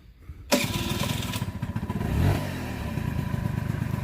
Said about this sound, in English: I'm just going to turn the bike on.